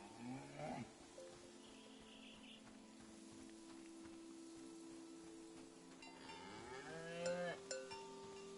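Cattle on a farm moo repeatedly, with a longer lowing call near the start and another drawn-out moo toward the end, over a steady rural background hum with faint bird-like chirps.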